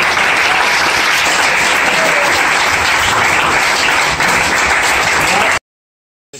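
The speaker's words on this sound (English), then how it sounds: "I'd like all of these students to give a round of applause to the parent chaperones" Students clap loudly in a dense, sustained round of applause for parent chaperones, steady for over five seconds before cutting off abruptly to silence.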